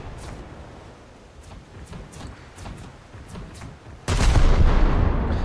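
Naval gunfire in World of Warships: scattered distant shots over a steady low rumble, then a much louder, closer salvo bursts in near the end and keeps roaring.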